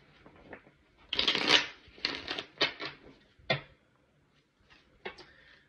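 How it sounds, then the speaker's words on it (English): A tarot card deck being shuffled by hand, with bursts of riffling and flicking cards that come in irregular clusters and end in a few sharp taps, close and fairly quiet, with no talking. "let me go ahead and shuffle up this deck"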